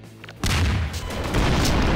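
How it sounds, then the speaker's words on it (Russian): An explosion goes off on a zombie map in the sandbox game Garry's Mod. After a quiet moment a sudden loud boom bursts in, then a heavy rumbling blast carries on to the end. "Вот сейчас будет взрыв."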